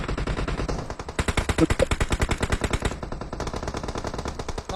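Rapid automatic gunfire in the mobile battle-royale game PUBG Mobile, a dense, steady stream of loud shots sustained through the whole stretch with a brief change in tone midway.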